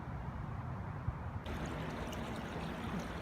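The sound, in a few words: small creek tributary flowing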